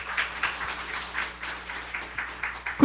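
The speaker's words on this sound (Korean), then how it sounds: "우리 하나님께 박수 올려드려요." Worshippers at a Sunday church service clap together in a fairly quiet, regular rhythm, with distinct beats repeating at a steady pace until a louder clap closes it.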